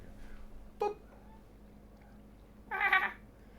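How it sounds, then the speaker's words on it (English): A pet cat meows twice indoors, a short chirp-like mew and then a longer, louder drawn-out meow, both fairly close over a quiet low background hum. "Like there. That's my cat."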